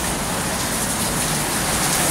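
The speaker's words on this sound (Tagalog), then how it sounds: "ito yung dito sa labas umuulan ng ganyan" Steady rain pours down outside in Cotabato City, Mindanao, Philippines, a dense, even hiss with no pauses and no voices.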